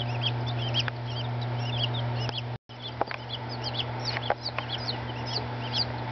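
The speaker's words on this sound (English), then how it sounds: "We got some new little Banty chicks." Newly arrived bantam chicks peep in short, high, scattered chirps over a steady low hum, with one brief dropout midway and no talking.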